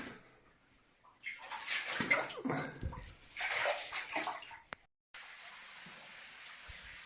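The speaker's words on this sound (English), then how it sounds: "Me breaking a little bit of a dam has caused a big waterfall coming down the slopes now." Water rushes and splashes down slopes in a manganese mine where a small dam was broken, a close, hissing flow that surges in uneven bursts before cutting out and settling to a fainter steady wash.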